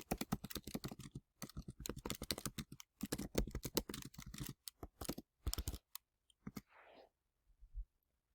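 Typing on a computer keyboard to enter question text, a close, quick run of clicking keystrokes in bursts with brief pauses, then a few slower taps and a soft rustle near the end.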